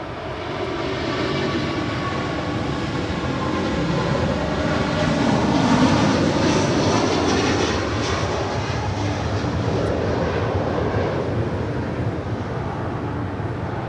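An airliner takes off at Los Angeles International Airport, its jet engines building to a loud, sustained roar that swells near the middle and holds steady, with no voices.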